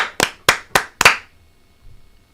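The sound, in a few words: five hand claps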